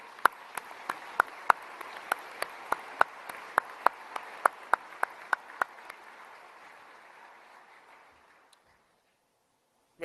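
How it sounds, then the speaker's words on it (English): An audience applauds at a military change of command ceremony, a soft clapping wash punctuated by sharp, evenly spaced clicks that fades away into silence. "Let's give them another round of applause."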